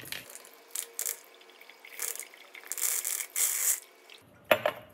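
Large plastic beads poured into a mesh funnel, a grainy rattling pour with several bursts of pattering over a few seconds, then a short final clatter.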